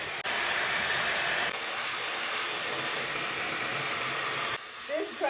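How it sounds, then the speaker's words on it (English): Lightweight hair dryer blowing steadily and loudly throughout a blowout, its broad airflow hiss briefly dipping in intensity before cutting off near the end, leaving quieter handling sounds. "Seriously, the best blow dryer I have ever owned."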